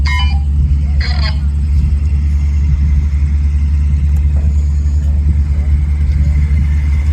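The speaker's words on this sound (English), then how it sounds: "this vehicle that you're seeing here is not a tank. It's a truck, but it's an exceptionally important truck" A Second World War Canadian military truck driving out at a museum display, its engine a loud, steady low rumble throughout, with a voice heard briefly over it.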